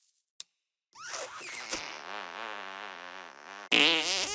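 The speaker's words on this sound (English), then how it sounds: "If he's really good, how come he can't sneak a fart behind your back?" In South Park: The Stick of Truth, a long, squeaky, wavering fart drones for several seconds, then cuts into a second, louder and rougher fart burst, with no speech over it.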